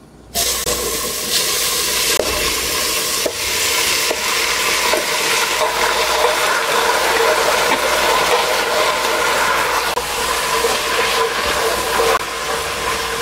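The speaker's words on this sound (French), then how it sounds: "Je peux maintenant renverser mes oignons." Sliced onions hit about two tablespoons of hot oil for Senegalese chicken yassa and fry with a loud, steady sizzle over high heat, broken by faint stirring scrapes and clinks, with no voices throughout.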